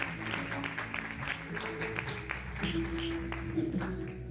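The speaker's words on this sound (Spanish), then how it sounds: "¿Un aplauso?" Faint, scattered applause from a conference audience celebrating with the speaker, soft claps under a low murmur and a sustained tonal hum, with voices heard quietly in the room.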